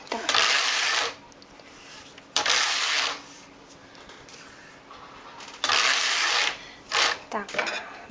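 A knitting machine knits four rows on a baby bonnet: the carriage makes four loud, raspy, whirring sweeps about a second each, separated by quieter gaps.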